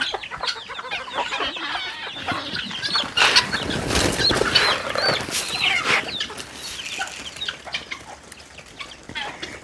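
Chickens and young chicks cluck and peep close by on a farm, with busy overlapping calls, bursts of wing flapping and light rustling throughout.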